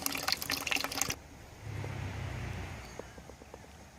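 Worm tea drains from a home worm farm: a short burst of rushing noise gives way to quiet, faint trickling and scattered soft drips.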